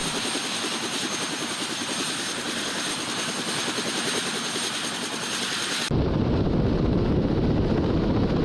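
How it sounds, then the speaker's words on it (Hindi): A Russian fighter helicopter attacking Ukrainian tanks: a loud, steady rotor thrum and engine roar fills the whole stretch, shifting abruptly to a heavier, rumbling wash partway through. "रूस ने यूक्रेन के टैंकों को अपने फाइटर हेलीकॉप्टर से"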